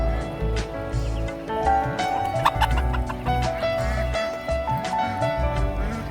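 Chickens cluck steadily around a farmhouse yard, several birds close by in a busy, overlapping chorus of clucks over continuous background chatter.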